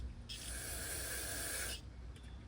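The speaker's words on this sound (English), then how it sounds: "Carb cleaner." A can of carb cleaner sprays in one continuous hiss lasting about a second and a half, close by, during work on a Ford F100 truck's cooling system.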